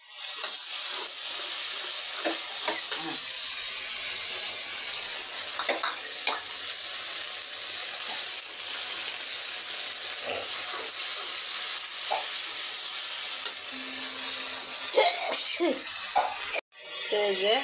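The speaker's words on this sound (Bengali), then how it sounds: "এইদিকে আমি এই যে পাতাকপিটা ভাজি করছি।" Cabbage stir-fries in a pan with a continuous close sizzle, broken by occasional scrapes and clinks of a spatula, while someone talks over it.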